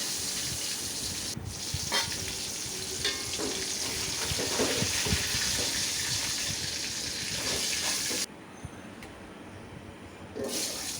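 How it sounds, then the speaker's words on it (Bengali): Boal catfish pieces frying in hot spattering oil in a home kitchen, a dense steady sizzle with crackles and stirring clatter throughout, briefly dropping quieter near the end before resuming. "মাছগুলো কিন্তু সাবধানে ভাজতে হবে, অনেক তেল ছিটে আসে"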